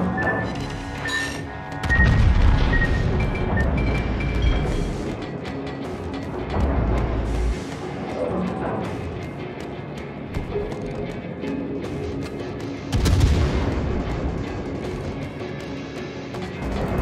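Warship guns fire in the naval game World of Warships: heavy booms and crashing blasts come in separate bursts, with loud volleys around the start, the middle and again later, over a continuous rumbling battle din.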